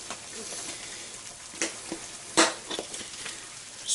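Eggs frying in a pan, a soft continuous sizzle broken by several sharp pops and crackles, close and moderately loud, with no talking.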